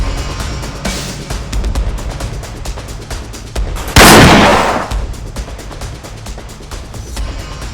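Gunfire erupts in a staged army action scene as soldiers open fire on command, with a rapid run of sharp close shots and a louder blast burst midway, continuing in scattered cracks.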